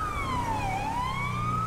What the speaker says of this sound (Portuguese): Vamos ligar aqui a sirene aqui pro pessoal não bater no carro